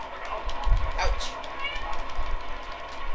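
A person imitates a cat meow during a Crash Team Racing play session, a short mewing cry near the middle, close and fairly clear, with voices and game sounds around it.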